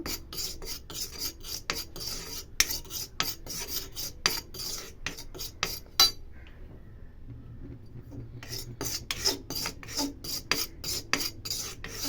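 Powder mixture of turmeric, Bru coffee and urad dal roasting in a pan for a homemade skin pack, stirred with a steady rasping scrape that repeats in quick strokes, pausing briefly midway before the scraping resumes.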